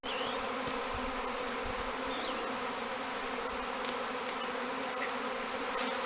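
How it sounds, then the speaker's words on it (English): Swarm of honey bees from hives in northeast Tennessee, a dense continuous buzzing drone heard up close and loud, with individual bees flying past, no talk. "That's the biggest pile of bees you ever seen here."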